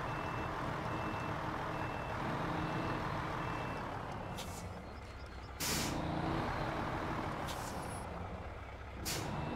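A truck reversing in the SnowRunner driving game gives off steady electronic reversing beeps over a constant engine drone, with sharp hissing bursts of air brakes breaking through near the middle and end.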